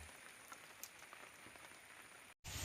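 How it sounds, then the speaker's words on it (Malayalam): Rain pattering outside a home during Onam season, a faint, even hiss of drops on surfaces with occasional louder taps, briefly cut out before resuming. "മഴയാന്നേ ചപ്പ് ചപ്പിടുന്നുണ്ട് കേട്ടോ"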